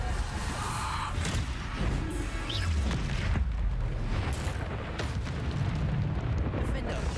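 Repeated Bombarda spell explosions in Hogwarts Legacy combat throw out a dense, continuous barrage of booms and bursts. A voice speaks in short phrases over the steady explosive din.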